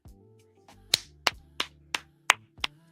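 Seven sharp, separate hand claps land in a quick, slightly uneven run, each crisp and close, with a low musical tone humming beneath them.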